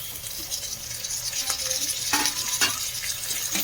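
Tomatoes sizzle and fry with capsicum in a pan while a spoon stirs them, giving a steady hiss with scraping accents near the end, close and moderately loud, with no talking.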